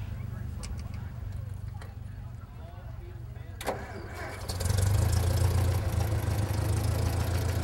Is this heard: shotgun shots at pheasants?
no